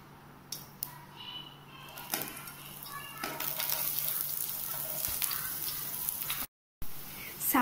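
Chopped onions and green chillies fry in a pan for a spinach thoran, with a soft, rising sizzle and occasional light clinks of a utensil against the pan, fairly quiet and close.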